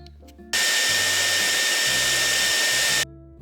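A hair dryer switches on abruptly, runs with a loud steady roar for about two and a half seconds, then clicks off.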